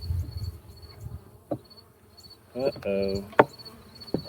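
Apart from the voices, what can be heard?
honey bees buzzing in an opened hive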